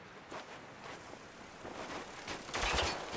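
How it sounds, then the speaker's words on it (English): Gunfire in the video game Spec Ops: The Line, scattered shots that build into a louder, denser burst of fire toward the end, with no talk over it. "Someone is shooting me."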